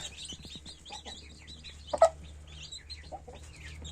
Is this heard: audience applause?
no